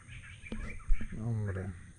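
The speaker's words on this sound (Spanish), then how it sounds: "Pájaro aquí. Cantando." Bird song at a reservoir in El Salvador: a few short chirping calls, moderately near, mixed in with someone talking and some low rumbling background noise.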